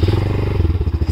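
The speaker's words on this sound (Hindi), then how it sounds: "तो अभी बाइक को करते हैं स्टार्ट।" A motorcycle engine chugs close by in rapid, rhythmic low pulses, loud and steady as it fires up, with no one speaking.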